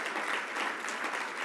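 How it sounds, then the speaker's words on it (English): Audience applause at the 2020 Friends of National Service Awards, a steady wash of many hands clapping, even and sustained across the short moment with no voices. "And I'm glad you clapped"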